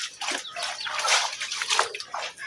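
White laundry is soaked by hand in a basin of water, with splashing, sloshing and dripping in close, uneven bursts.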